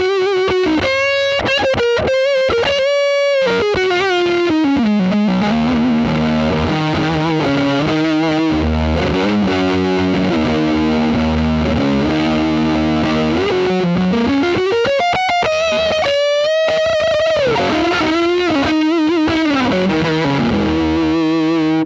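Electric guitar through a JHS PackRat distortion pedal, white face version, into a Marshall amp: a long, loud, saturated classic-rock passage of chords and bending single-note lines with no talking.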